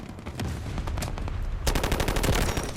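Rapid automatic gunfire from a weapon in the mobile shooter Delta Force Mobile, loud and close, with sharp repeated shots that intensify into a denser burst partway through.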